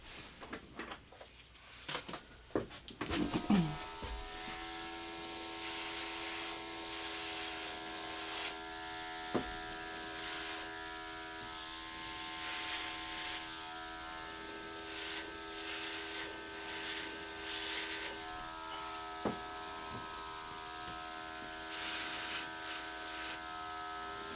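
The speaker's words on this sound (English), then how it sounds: "let me grab my airbrush" An airbrush hisses and buzzes steadily while spraying paint, close and continuous for about twenty seconds after a few brief handling noises at the start.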